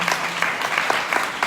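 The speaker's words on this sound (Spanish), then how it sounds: "Este es el aplauso." A conference audience at a state biology congress claps, a dense, close burst of continuous applause lasting throughout.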